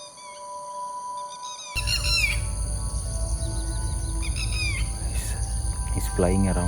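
Red-wattled lapwing calling in open country, a series of sharp, repeated cries with a quick burst of rapid calls near the end, somewhat distant over steady low background rumble and hiss.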